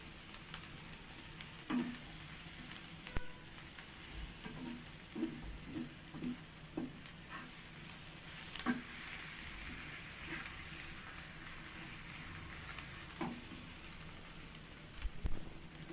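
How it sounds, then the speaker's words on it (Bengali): Onions frying in a pan while being stirred until soft and brown give a steady low sizzle, with soft scraping stirs and occasional light knocks throughout, fairly quiet and without talk. "ততক্ষণ পর্যন্ত নাড়তে থাকবো যতক্ষণ না পর্যন্ত পেঁয়াজটা নরম হয়ে আসছে।"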